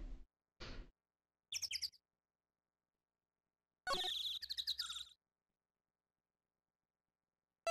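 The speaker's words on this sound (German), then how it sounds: "Hört ihr dieses Vögelchen?" Short bursts of tiny chirps and squeaks from a small bird in the video game Phoenix Wright: Ace Attorney come and go with silent gaps between, one longer twittering run in the middle; small and thin-sounding.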